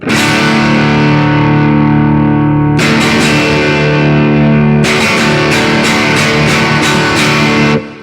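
Loud distorted electric guitar in open tuning strumming a ringing open chord, sustained and heavy with effects, then restruck several times with bright, jangly attacks.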